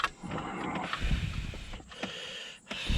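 Bolts being screwed into a Hummer H2 gearshift assembly outdoors, close mechanical ratcheting and creaking turns with brief metallic clicks, no talking.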